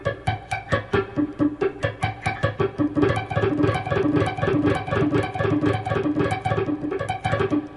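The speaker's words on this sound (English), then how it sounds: "Now you can actually mute the strings and work on just the right hand." A guitarist plays sweep-picking with the right hand only, the strings muted. The picking is a fast, steady stream of short, clipped attacks in a repeating rhythm, close and clear, with no talking.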